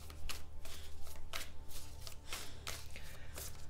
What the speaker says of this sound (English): who's the one that's shuffling the cards?